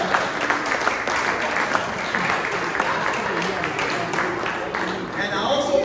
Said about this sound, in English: Give a round of applause to those guys there.